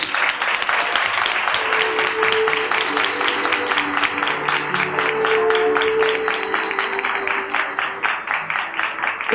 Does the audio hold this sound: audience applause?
yes